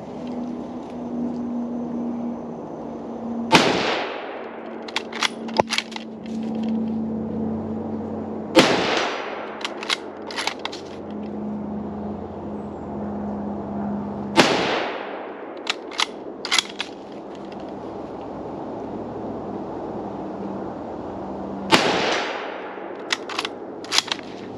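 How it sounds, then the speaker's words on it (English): Four loud rifle shots from a 1903A3 Springfield bolt-action, spaced several seconds apart, each a sharp crack with a quick decay, with metallic bolt clicks and clatter between shots over a low background hum. "Moving the safety to fire, now we'll fire the gun."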